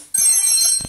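A bell rings in the mobile game Brawl Stars, with a bright, sustained metallic chime that starts sharply and holds for about a second, plus a low thump near the end.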